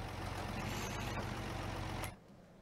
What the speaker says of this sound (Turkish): Aa, dandik traktör.